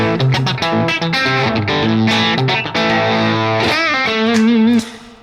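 Distorted electric guitar plays a run of chords and notes, ending on a sustained bent note that fades out with a lingering echoing tail.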